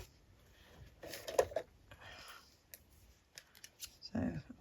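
Scissors snip through an old book page, a few quiet close crisp cuts with paper rustling, while a person talks softly.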